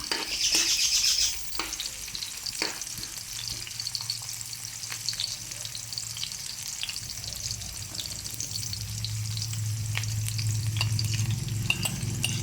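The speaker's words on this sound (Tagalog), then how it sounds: "Pabunguhin din natin ng kunting minute ang sibuyas bago natin ilagay ang bawang." Onions sautéing in oil in a pan for catfish adobo, a continuous close sizzle and crackle with occasional stirring scrapes and a brief louder burst at the start.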